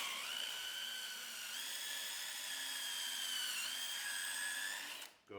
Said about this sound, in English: So then you just put your drill in here.